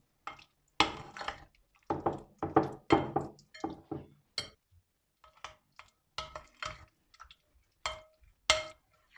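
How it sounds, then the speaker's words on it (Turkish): Powdered sugar, oil and peanut butter are mixed in a bowl for peanut butter atom cookies, heard up close as rhythmic bursts of scraping and clinking strokes separated by short pauses, with no talking. "pudra şekeri, sıvı yağ ve fıstık ezmesini karıştırıyorum"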